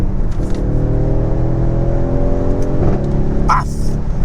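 A Mercedes-AMG GLC 63 SUV with a V8 engine accelerating, heard as a steady, loud low rumble with rising engine tone and a brief shift, recorded from inside the car.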